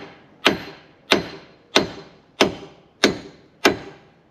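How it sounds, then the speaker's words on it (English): Six evenly spaced, sharp metallic hammer blows ring out one after another as a hammer taps a broken car wheel stud out of its hub, each strike decaying quickly before the next. "Then we can go ahead and tap this stud out with a hammer."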